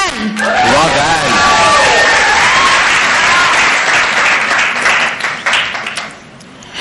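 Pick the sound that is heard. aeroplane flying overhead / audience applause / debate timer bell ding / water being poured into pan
audience applause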